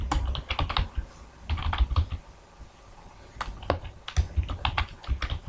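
Bursts of keystrokes on a computer keyboard while writing HTML paragraph code, clattering in quick irregular clusters with short pauses between them, close and clear with no voices.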